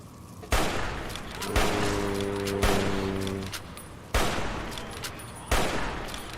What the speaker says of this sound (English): Don't know why I'm wasting my bullets to fight something that has 500 health.